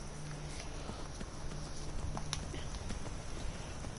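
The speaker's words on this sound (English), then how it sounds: "Big John's horse." A horse's hooves clip-clop in the Skyrim video game, a steady walking rhythm of hoof beats over a constant ambient background, with a faint game sound partway through.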